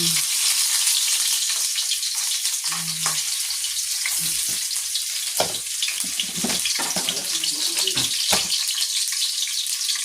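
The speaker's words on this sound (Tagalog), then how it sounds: "Lagyan na muna yung sibuyas at bawang." Onion and garlic hit hot oil in a pan and fry with a loud, continuous bright sizzle, dotted with a few soft clatters and stirring scrapes close by.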